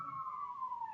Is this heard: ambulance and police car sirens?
yes